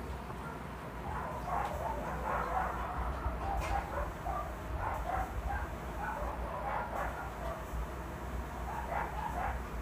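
A dog barks and yips faintly at a distance amid a noisy neighborhood background, with a few scattered barks spread over the span.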